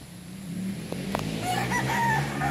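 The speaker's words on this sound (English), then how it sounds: "my favorite roosters, you know, the Lisai" A Lisai rooster crows once in a drawn-out call close by, over faint farmyard background noise.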